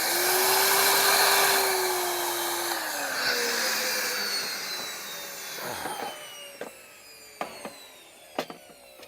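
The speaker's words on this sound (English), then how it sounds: "then I'm gonna turn the fan on" A fan blows air through the drain pipe of an above-ground pool with a center drain, giving a steady loud rushing hum whose tone sags and fades, followed by a few sharp knocks and clicks.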